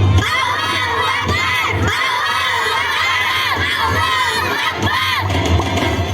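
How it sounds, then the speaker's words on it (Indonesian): Children in an independence-day school play about Surabaya shout loudly together, a continuous chorus of raised voices with repeated surges of yelling and cheering, close and dense throughout. "Rakyat Surabaya menyambut pidato Kiai Haji Hashim Asy'ari dan Bung Tomo dengan teriakan lantang"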